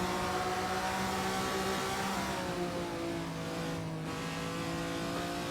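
A Ferrari 250 Testa Rossa engine holds a loud, steady drone as the car overtakes another, with a brief dip in pitch near the end and no voices.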